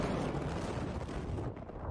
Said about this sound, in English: A second massive explosion that some described as like an earthquake.